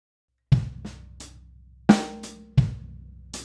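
A drum kit plays a slow go-go groove built on a paradiddle, with sharp snare and bass drum hits that ring out over silence, clear and close.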